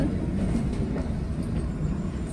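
Kalka–Shimla toy train rumbling as it begins to move, a steady low rolling drone of wagons on track with faint clicking, close and continuous.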